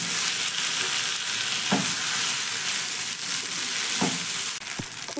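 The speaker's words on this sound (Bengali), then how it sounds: "খুব ভালো করে মিশিয়ে 1 মিনিট মতো নাড়াচাড়া করে আমি ভেজে নিয়েছি" Potato, paneer and soybean fry together in a pan with a loud, constant sizzle, broken by a few scraping stirs of a spatula; no voices.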